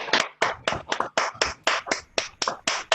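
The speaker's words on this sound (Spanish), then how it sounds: "Nosotros vamos a hacer el aplauso que siempre hacemos como agradecimiento a esta hermosa exposición y enseñanza que nos has dado" A group claps in thanks after a presentation, about a dozen loud, crisp claps in a steady, fairly quick rhythm, close by and with no talking.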